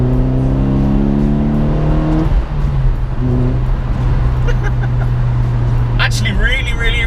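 A Ford Fiesta ST150 engine drops in pitch at a gear change into third, then pulls steadily again, droning loud and close with a brief rise near the end.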